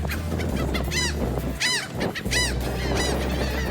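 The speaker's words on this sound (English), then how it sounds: "With this many birds all getting upset." A large flock of agitated wild birds, geese among them, calling near the nest area. Loud repeated honks and squawks overlap in bursts, with several distinct calls rising above a constant background of chatter.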